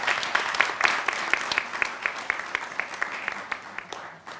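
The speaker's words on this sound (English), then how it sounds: "So a big clap for Playroom Day Nursery" Audience applause at an early years awards celebration, a steady wash of many hands clapping across the room, with sharper individual claps standing out throughout.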